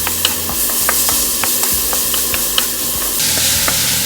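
Garlic and onion with other ingredients stirred in a hot frying pot for Zuppa Toscana soup, with steady loud sizzling and a few sharp utensil scrapes and taps against the pot, no talk.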